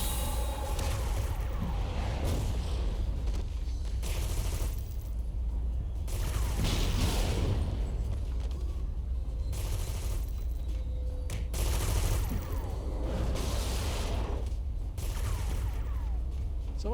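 Steady enemy gunfire in City of Heroes, dense overlapping shots and bursts running continuously at moderate level with game noise and some talk over it.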